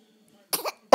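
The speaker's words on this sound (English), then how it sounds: "Lots of sneezes." Two short, sharp sneezes burst out close to the listener, the second louder and more abrupt, with a faint tonal hum beforehand.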